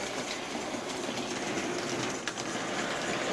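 A Hornby Dublo Black Five model locomotive runs on 3-rail track over points, giving a continuous close rolling rumble and faint rhythmic clicking of wheels, with no voices.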